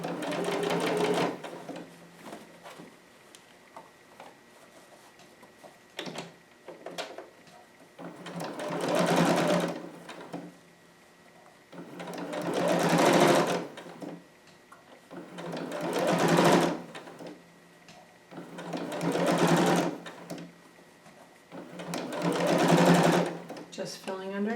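A sewing machine stitches fabric for a harem jumpsuit in repeated loud bursts of rapid mechanical whirring, with quieter pauses between runs and a person talking in between.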